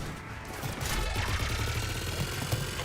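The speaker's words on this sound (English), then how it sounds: "Just following the gunfire." Gunfire and battle noise in the video game Mass Effect 3, a dense continuous clatter of weapons fire with mechanical sounds, heard close and steady without talk.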